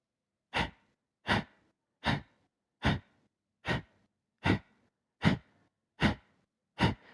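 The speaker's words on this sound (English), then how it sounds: "you're going to force your breath out while you're contracting your belly and pulling your belly in" Kapalabhati yoga breathing: nine sharp, forced exhalations through the nose, evenly spaced about every three-quarters of a second, close and alone with silence between each puff.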